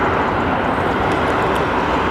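A Delta Boeing 767-400 airliner with raked wingtips is at London Heathrow. Its engines give a loud, steady, broadband roar that holds unchanged through the short stretch, with no voices.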